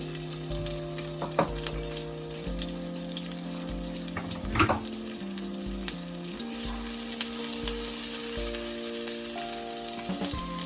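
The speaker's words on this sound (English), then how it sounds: "Time to add some onion." Onions frying in a pan after salmon has been seared in it, with a soft, steady sizzle and a few sharp scrapes and knocks of a utensil, close and fairly quiet, alongside a faint background hum.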